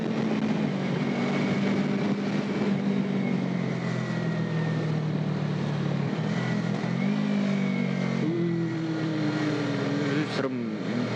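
A Yamaha R3 motorcycle pulls through Taipei city traffic, its engine droning steadily and rising in pitch as it accelerates through the gears, with wind rush throughout.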